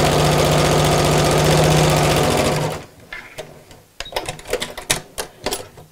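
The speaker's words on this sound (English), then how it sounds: "sew just along the edge just to hold that pocket in place before we put more bias binding on" Domestic sewing machine stitching along the edge of a fabric pocket on a sewing machine mat, a loud steady motor whir with rapid needle clatter for about three seconds, then stopping, followed by scattered handling clicks and rustles.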